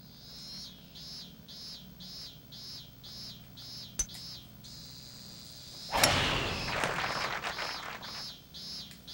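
Game-generated birdsong from a golf course in Hot Shots Golf 3, a repeating series of high, evenly spaced chirps over a low ambient bed, followed by a louder broadband swoosh near the end.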